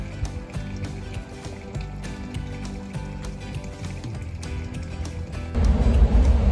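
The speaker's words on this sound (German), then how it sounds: "Sehr entspannend, dieses Plätschern." Water splashes and trickles steadily in a small garden pond, a continuous close babbling that swells louder toward the end.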